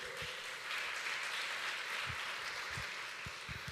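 Congregation in a worship service clapping together, a broad sustained applause with a few deeper thumps scattered through it, moderately loud and continuous.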